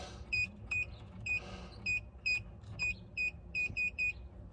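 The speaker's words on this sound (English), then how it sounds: "Now it beeped, ready for our opening code." A string of short, high electronic beeps from an Emtek electronic gate lock keypad, some single and some in quick pairs, sounding clearly over a low background hum.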